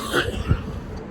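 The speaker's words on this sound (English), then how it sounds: "that's why I'm coughing" A single short cough from a dry throat, close and fairly loud, in an air-conditioned cabin aboard the P&O cruise ship Britannia during a day at sea.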